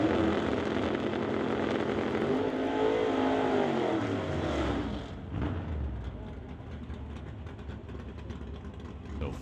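Super Shifters drag race cars run the final round at Mission Raceway's Titanium Strip, a loud engine roar that rises in pitch and then drops away into a quieter, distant rumble as the cars pull off down the strip.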